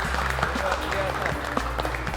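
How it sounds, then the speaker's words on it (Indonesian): Studio applause greets the top six contestants on a vegetarian cooking competition show, a steady, moderate clatter of claps under voices. "Kasih tepuk tangan untuk kalian"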